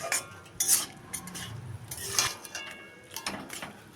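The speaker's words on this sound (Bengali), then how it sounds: "এখন ঢাকা তুলে নেড়ে চেড়ে দেব।" A metal lid clinks off a pan of red amaranth greens, then a spatula scrapes and taps against the pan in irregular bursts as the greens are stirred, close and fairly quiet.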